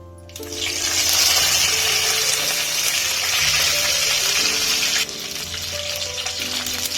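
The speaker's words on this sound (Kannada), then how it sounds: "ಸಾಸಿವೆ ಸಿಡ್ಲಿ." Mustard seeds splutter in about two tablespoons of hot oil in a pan for tomato gojju: a loud, steady hissing sizzle with crackling pops, sustained throughout and easing slightly near the end, over faint background music.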